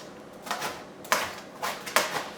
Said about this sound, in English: Tomatoes are getting cut.